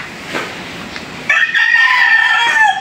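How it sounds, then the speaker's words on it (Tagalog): After some faint rustling, a rooster crows loudly and close by, a single drawn-out call with light clucking around it. "so maingay yung aming mga alagang manok ngayon"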